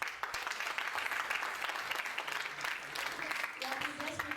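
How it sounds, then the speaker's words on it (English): Audience applause after a Sivapadam dance performance, a dense steady wash of clapping held at an even level throughout, with a voice speaking over it toward the end. "A very big round of applause."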